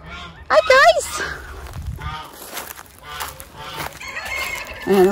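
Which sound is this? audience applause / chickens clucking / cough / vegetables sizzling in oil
chickens clucking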